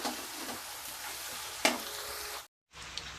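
Onions in oil sizzle steadily while being sautéed for chicken keema, a close, continuous frying hiss with occasional stirring scrapes, briefly cutting out before resuming.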